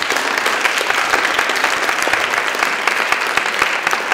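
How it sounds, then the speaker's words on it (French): A conference forum audience gives a steady round of applause, dense, even clapping from many hands filling the room throughout. "elle mérite une bonne main d'applaudissements"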